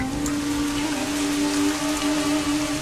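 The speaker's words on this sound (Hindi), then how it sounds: "बारिश आ गई जैसा कि हमने सोचा था।" Steady, dense rain falling in an animated fight scene, a continuous loud hiss with no breaks and a faint tonal hum beneath it.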